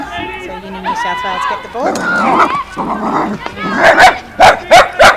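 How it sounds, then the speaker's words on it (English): Several dogs bark and yip close to the microphone at a women's field hockey match, with sharp repeated barks toward the end, heard under a commentator speaking. "There's just a few dogs met each other just below the ground mic."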